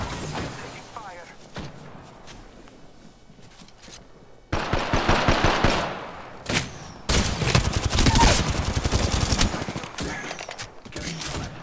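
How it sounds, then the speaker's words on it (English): Rapid automatic gunfire bursts from the video game Apex Legends, sparse at first and then dense and loud in long overlapping volleys, with thuds and brief character voice callouts mixed in. "Taking fire!"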